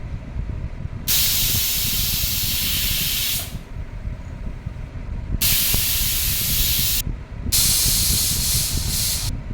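Two pressure cookers, one with potatoes and one with dal, release loud bursts of hissing steam, three long jets separated by short pauses, close by, with no voices.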